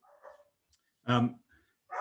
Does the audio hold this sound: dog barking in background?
yes